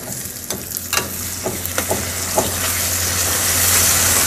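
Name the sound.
tomatoes added to sizzling urad dal masala in hot oil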